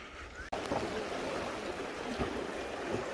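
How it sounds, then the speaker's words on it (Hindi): Cold mountain waterfall stream rushing in Basho Valley near Skardu, a steady broadband roar of flowing water that stays close and continuous after a brief dropout at the start. "ठंडा झरना बह रहा है"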